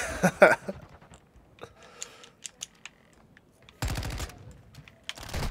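Gunfire in Call of Duty Warzone 2.0: a sharp shot up close, a scatter of faint distant pops, then a dense burst of automatic fire near the end.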